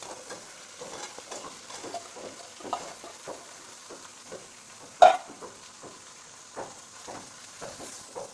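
Gentle scraping of a spoon stirring boiled vegetables in a pan, with soft rhythmic strokes over a faint sizzle and one sharper clink.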